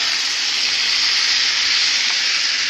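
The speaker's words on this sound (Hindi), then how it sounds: "अब हम इसमें टमाटर ऐड कर देते हैं। ये टमाटर हमने बारीक काट के रखी है, इसे हम ऐड कर देंगे इसमें" Chopped tomatoes dropped into a hot pan, giving a loud, steady, bright sizzle throughout.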